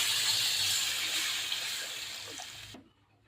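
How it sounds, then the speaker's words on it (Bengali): Water gushes into a pan of frying potatoes, a loud steady hissing pour that fades slightly before cutting off abruptly, leaving near silence. "এখন দিয়ে দেবো আমি এখানে জল"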